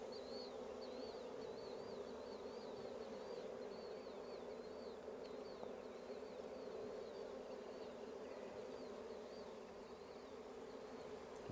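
Bees swarm around a trap, a dense, steady buzzing hum with individual bees whining past close by, continuous and fairly quiet.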